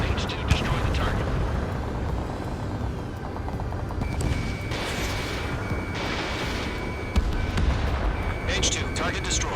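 A target blowing up in the jet combat game Ace Combat 7: Skies Unknown, with deep rumbling booms and rolling blasts over continuous engine roar, while voices talk over the action.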